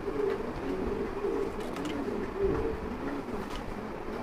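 Giribaz pigeons, tagged birds offered for sale, coo in low, throaty, repeated calls that overlap close by over a steady background hum.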